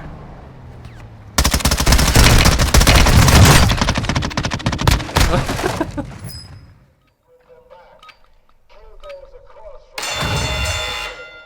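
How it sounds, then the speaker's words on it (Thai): Enemy gunfire in Call of Duty Warzone 2.0, with loud, rapid automatic bursts rattling close by for several seconds, then a quieter lull and another short burst near the end, as a voice speaks. "มีคนยิงมา"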